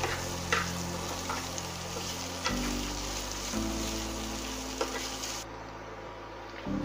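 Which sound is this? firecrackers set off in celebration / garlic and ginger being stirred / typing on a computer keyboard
garlic and ginger being stirred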